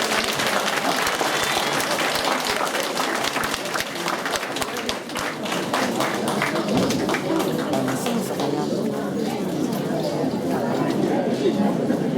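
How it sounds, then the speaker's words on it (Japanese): A Japanese audience at a concert at Satsukien gives a final round of applause after a musical performance, sustained crowd clapping that stays loud throughout with some chatter and voices mixed in toward the end. "最後もう一度拍手をお願いいたします。"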